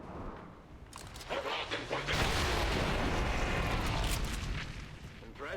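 In XCOM 2, an explosion erupts from a charge with a two-square blast radius, a broad rumbling blast that swells and lingers with debris noise for several seconds.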